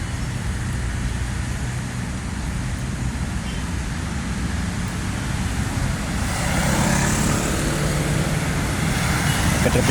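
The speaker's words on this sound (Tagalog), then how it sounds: "Traffic na talaga sa dami ng sasakyan." Heavy road traffic around Quezon City Circle during rain, with cars, trucks and motorcycles producing a steady, dense roar that swells louder in the last few seconds.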